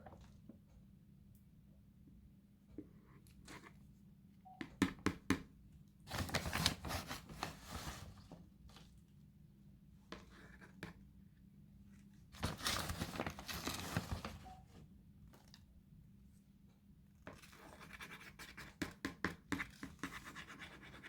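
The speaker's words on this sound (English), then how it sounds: "Now I'm just going to take the indoor potting mix and start filling the sides up." Indoor potting mix being scooped and poured around a peace lily in its pot, giving soft scratchy rustles and crumbly shuffling in bursts, with a few louder pours, close and quiet with no talking.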